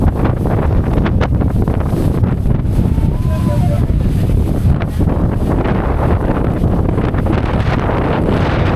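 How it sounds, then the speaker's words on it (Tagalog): Strong wind roars steadily into the microphone outdoors on the Pacific coast at Dingalan, Aurora, a constant loud buffeting rumble with gusty swells throughout. "Lakas ng hangin."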